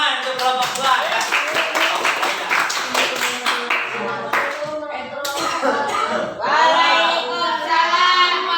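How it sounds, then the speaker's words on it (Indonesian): A small group claps for group 2 at a classroom presentation session, a brisk burst of clapping for about four seconds before voices take over. "Tepuk tangan untuk kelompok 2 ya."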